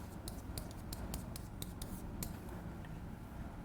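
Writing on a board during a classroom lesson: a series of short, sharp scratchy strokes in an uneven rhythm over a steady hum of room noise, faint and close, with no voice over it.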